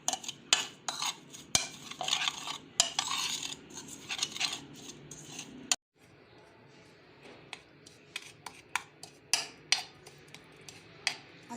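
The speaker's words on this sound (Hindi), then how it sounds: "एक बॉल में हम सारे मसाले डाल लेंगे। इसको अच्छी तरह मिक्स करेंगे।" Spices are mixed together in a bowl with a spoon, giving quick clinks and scrapes in an irregular, busy rhythm that is close but fairly quiet, broken by a short pause midway.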